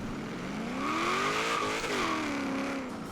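A 1967 Chevrolet Chevelle Super Sport 396 launches in Forza Horizon 3, its engine held at steady revs then climbing through a loud, continuous rising roar with a brief dip as it shifts, no voices over it.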